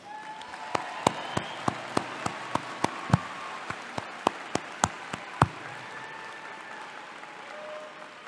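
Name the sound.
audience applause at a commencement ceremony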